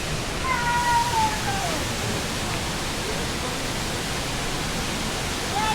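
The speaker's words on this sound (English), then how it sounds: "Gonna take a look at the waterfall one more time." Salto Jimenoa waterfall in the Dominican Republic roars as a steady, dense wash of falling water, loud and unbroken throughout, with faint whistling tones drifting over it.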